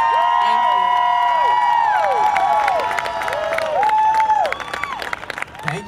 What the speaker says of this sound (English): let's just get one loud round of applause for Kim Haywood, please.